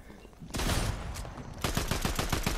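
Video game gunfire erupts in two close bursts, a sustained fusillade followed by rapid, evenly spaced automatic shots, loud and up front.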